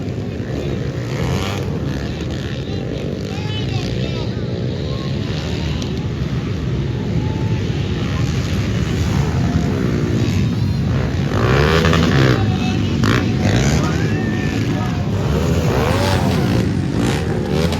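Motocross motorcycles racing on a dirt track at an international-level event in Shillong; a continuous loud engine drone with revving swells and passing bikes, steady throughout with crowd-like background noise.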